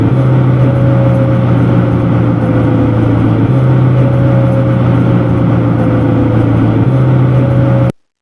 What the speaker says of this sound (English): during the rundown the gear makes a certain sound